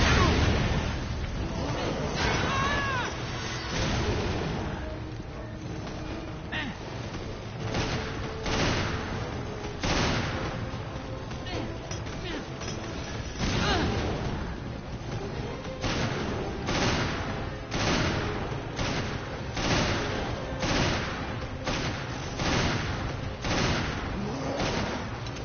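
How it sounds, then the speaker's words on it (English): Grenade blasts and gunfire in Resident Evil Revelations come as a dense, steady run of loud bursts over about twenty-five seconds of busy gameplay. "y'all getting grenaded"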